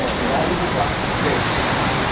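Steady, loud rush of about a litre of measured water pouring into a pot for pancit bihon, continuous and close without breaks.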